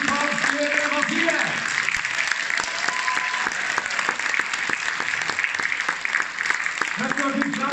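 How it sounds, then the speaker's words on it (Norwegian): Audience applause fills a Christmas concert hall in Hammerfest, a steady dense wash of clapping throughout with brief tonal snatches of music or voices at the start and end. "vi må gi en skikkelig applaus til han og Bertil Sitt for det"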